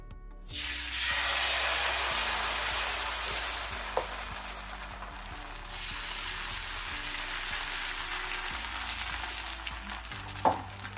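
Cucumber set dosa batter hits a hot pan and sizzles loudly, the frying hiss swelling right away then holding steady and slowly easing, with faint clinks now and then.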